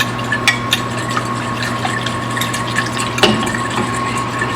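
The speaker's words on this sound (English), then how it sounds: "And I'm mixing it up so I don't have lumps." Cornstarch being mixed with water in a small container to keep it from forming lumps, a steady liquid swirling and sloshing with a few brief clinks, close and fairly loud, with no talking.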